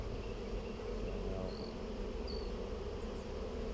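Honey bees buzz in a dense, steady drone at an opened lower hive, close and continuous, with individual bees whining past.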